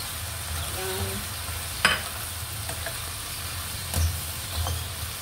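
Carrots going into sautéing green beans in a pan, a steady close hiss of frying with a few sharp clacks and scrapes of the spoon against the pan.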